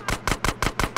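Rapid bursts of gunfire in Grand Theft Auto: San Andreas, five sharp loud shots in quick even succession within a second.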